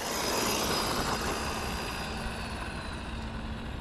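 An Arrma Granite Mega RC car on nickel metal hydride batteries at full throttle, giving a continuous broadband motor whine and rushing roar, fairly distant and steady with no talk.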